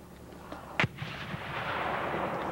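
A single rifle shot cracks out on a US Army basic training range, one sharp report with a short echoing tail, followed by a wash of distant outdoor noise.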